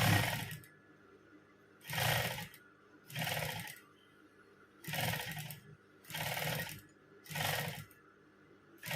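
A sewing machine stitches a small folded fabric hem in six evenly spaced bursts of whirring, each about a second long and separated by short quiet pauses, close and clear with no talking.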